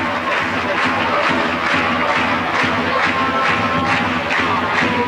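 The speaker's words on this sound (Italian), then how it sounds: "applausi per lui" A crowd at a basketball game cheers and applauds, a dense, steady roar of clapping and shouting that fills the arena throughout.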